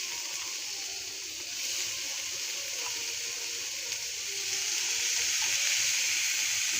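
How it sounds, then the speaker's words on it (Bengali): Chopped potato and carrot added to onions already frying in oil produce a soft, steady hiss that swells slightly toward the end, with faint stirring taps. "এখন দিয়ে দিচ্ছি আলু আর গাজর।"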